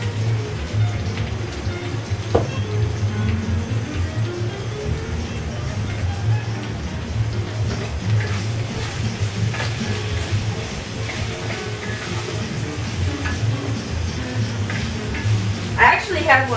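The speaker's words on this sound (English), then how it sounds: "after I fry my okra, put it in there" Okra fries and sautés in a pan for a steady low sizzle, with a few clinks near the start and end. A person talks over it throughout.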